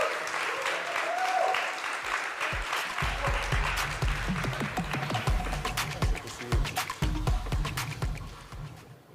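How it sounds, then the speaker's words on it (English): An audience at the Indonesia Fintech Summit in Bali applauds as Binance CEO CZ comes on stage. A broad wash of applause starts up and then thins into scattered, sharper claps up close. "best everyone can give a round of applause to CZ, the CEO of Binance"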